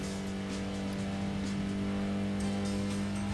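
A Datsun 240Z race car engine in Gran Turismo 2 drones steadily at a constant pitch, loud and continuous with a faint rising whine, no talk over it.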